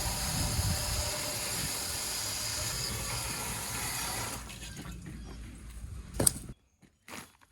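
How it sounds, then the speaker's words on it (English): Steady rushing water pours into a pool sand filter tank for several seconds, then cuts off, followed by a couple of brief knocks. "I'm going to fill this about close to half full of water"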